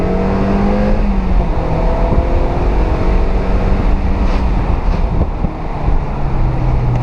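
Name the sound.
Mazda MX-5 NC driving and downshifting on damp road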